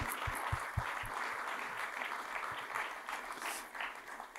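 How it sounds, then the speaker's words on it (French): Conference audience giving modest applause after speakers are thanked, scattered hand claps from a smallish crowd at moderate distance, some sharper individual claps near the start. "Vous pouvez les applaudir."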